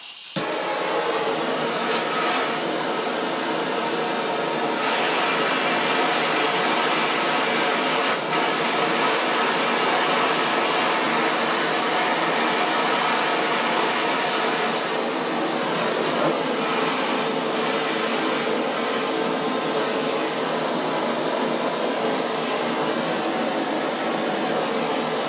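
A gas torch roars steadily while copper boiler tubes are brazed in a workshop, giving a continuous loud hiss that holds almost unchanged for the whole stretch with no talking.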